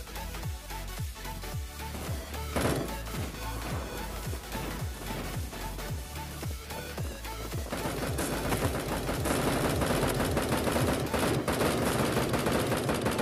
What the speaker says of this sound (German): Ich schieße einfach irgendwie hin.